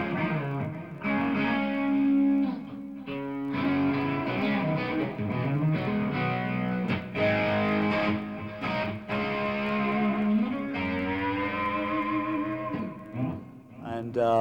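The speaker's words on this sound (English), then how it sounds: "stereo chorus, which I use for just a little bit of distortion" An electric guitar rings through a stereo chorus with a touch of distortion, playing sustained, shimmering chords and notes that swell and shift steadily.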